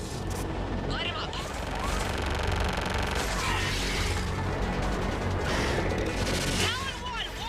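Rapid gunfire and mechanical weapon bursts from a sci-fi shooter game, Mass Effect Legendary Edition, dense and continuous under a sustained noisy battle bed with whooshing effects, loud and close throughout.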